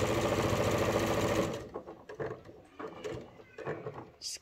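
Sewing machine stitching fabric coasters runs steadily and loudly for about a second and a half, then stops, followed by quieter handling noises and light clatter.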